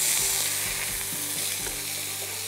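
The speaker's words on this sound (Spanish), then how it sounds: "Y voy a aprovechar para ponerle un poco de cebolla" Onion frying with lamb ribs in a pan, a steady close sizzle with broadband hiss throughout and a few soft stirring knocks, no voices.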